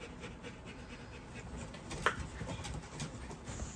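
Rottweiler puppies pant steadily at close range, a soft continuous rapid breathing with faint rustling and one brief sharper sound partway through.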